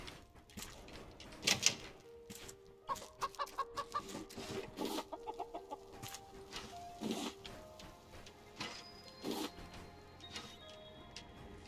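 Chickens in the survival video game Raft, a busy run of quick clucks and squawks scattered in bursts over a faint background, fairly quiet and close.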